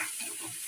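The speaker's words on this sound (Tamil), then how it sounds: "வெங்காயம் வதங்கிட்டு" Onions sautéing in a pan for a Tamil tomato chutney served with idli, a soft steady sizzle heard close up and alone for a brief moment.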